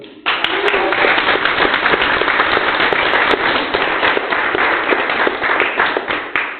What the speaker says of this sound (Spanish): Un fuerte aplauso y la recibimos a María del Carmen Verdú.